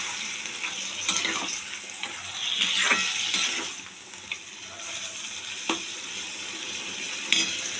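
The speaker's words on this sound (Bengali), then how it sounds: "তারপরে দেবো জল" Mixed vegetables and lentil dumplings (bori) frying in a pan as water goes in, giving a steady close sizzle with brief stirring scrapes that swell and ease throughout.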